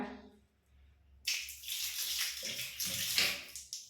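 A child splashes water onto their face at a tap after brushing teeth, a steady wet rush of splashing and running water that starts abruptly and continues close by, with no talking over it.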